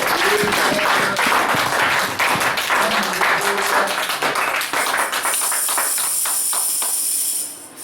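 A church congregation claps and acclaims the Lord, with brisk, crowded applause and scattered voices that thin toward the end, leaving a high hiss before fading out.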